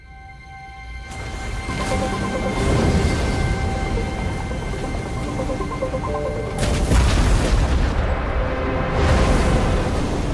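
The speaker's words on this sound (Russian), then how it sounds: "Экспресс взрывается." A massive explosion of the Express train in Honkai: Star Rail rumbles as a sustained, roaring boom under swelling game music, with a second surge of blast noise partway through.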